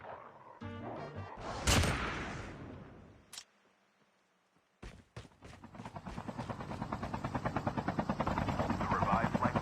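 A video game helicopter's rotor chop swells steadily louder toward the end, following a few sharp crashing hits and a quiet gap.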